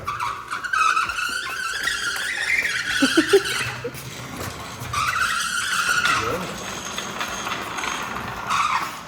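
A custom hydrogen-powered vehicle drives close by, its steady whine and rolling noise running throughout with a brief scraping burst partway, while people talk over it.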